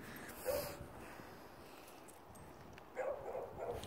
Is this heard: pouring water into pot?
no